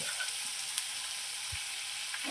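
Turmeric and spices dropped into hot oil while tempering for vagharelo rotlo: a steady, moderately faint hiss of frying oil that continues evenly from start to finish, with a few light clinks.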